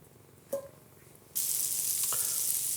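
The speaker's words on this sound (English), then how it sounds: "I've lowered the heat on this pan, and to it, I'm going to add 2 tablespoons of butter." Two tablespoons of butter drop into a frying pan on lowered heat: a quiet clink comes first, then a sudden loud, steady sizzle that holds close and constant to the end.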